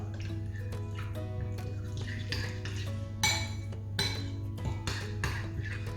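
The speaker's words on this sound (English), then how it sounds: "We'll mix all these ingredients together." Chicken marinade ingredients being mixed in a bowl, with soft clinks and scrapes of a utensil against the dish in an irregular rhythm, close and fairly quiet over a low steady background hum.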